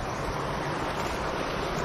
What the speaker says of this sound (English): You can just feel the place, the river flowing,